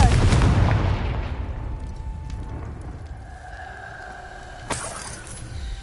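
A Confringo spell goes off in a Harry Potter video game as a heavy blast that opens the clip, rumbles, and fades into lingering magical tones, with a sharper crack about two-thirds of the way through.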